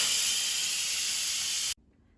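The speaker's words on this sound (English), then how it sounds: "so let's quick release the steam." An Instant Pot pressure cooker quick-releases steam after cooking dried chickpeas on high pressure, giving a loud, steady, close hiss that cuts off abruptly and leaves near silence.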